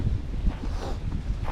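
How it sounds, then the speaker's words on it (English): Beach wind buffets straight into a microphone, making a loud, gusty low rumble with uneven thumps and surges across the whole moment. "I'm sorry about the wind."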